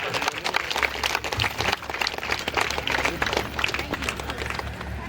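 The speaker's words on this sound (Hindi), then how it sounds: "जोरदार ताली कम से कम जरूर बजाएं।" An audience at an Ambedkar Jayanti celebration gives loud, steady applause, dense clapping from a crowd close by, with faint voices mixed into the ovation.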